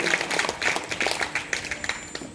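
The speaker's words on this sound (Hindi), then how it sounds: "आपकी तालियां बजती हैं" An audience claps at a Ramcharitmanas Sant Sammelan religious gathering, a brief burst of dense, fairly close clapping filling the whole moment.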